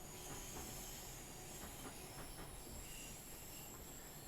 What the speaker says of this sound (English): Going to get this train up to 40 as quick as I can